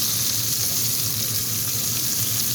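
Garden peppers frying in a little oil in a home kitchen pan, giving a steady, close, continuous sizzle and crackle that runs unbroken throughout with no talking.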